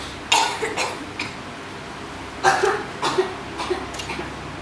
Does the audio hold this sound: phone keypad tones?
no